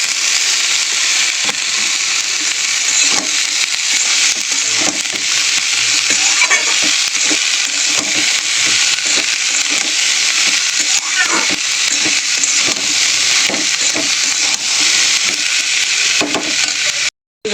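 Cut ivy gourd (kundri) frying in oil in a pan, a loud continuous sizzle with repeated stirring scrapes and clicks, close up and steady throughout.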